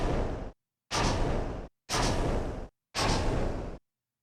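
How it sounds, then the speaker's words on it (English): Video game spaceship steering effects: four separate whooshing bursts of broad rushing noise, each under a second long with short silent gaps between, loud and up close. "Then we have some steering sounds."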